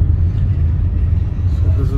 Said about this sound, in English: This is the taxi which I have boarded